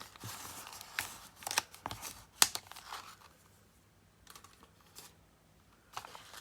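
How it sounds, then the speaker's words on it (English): A bone folder rubbing and pressing a paper crease tight on a handmade journal envelope, heard as a few sharp scraping and crinkling strokes up close, followed by quieter, sparse paper rustles. "let me bring my bone folder in"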